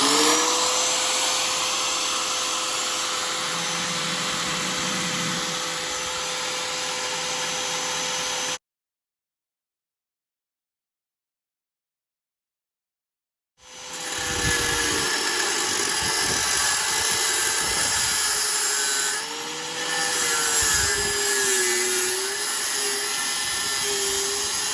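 A power tool, likely an angle grinder, cuts through a Ford Fiesta Mk6 exhaust pipe, giving a loud sustained whine that drops out for several seconds and then resumes with dips in pitch as the blade bites into the metal.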